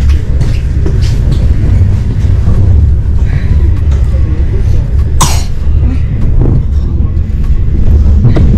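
Inside a train in Finland, a steady low rumble of the carriage rolling along fills the background while people talk and someone coughs.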